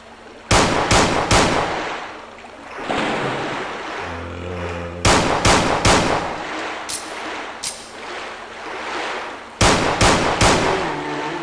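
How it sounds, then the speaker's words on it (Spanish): Bursts of rapid revolver gunshots in the video game Resident Evil 2 on PS1 ring out in three separate volleys, loud and sharp, with quieter ambient noise and a low rumble between them. "el problema del revólver es que son solo 6 disparos"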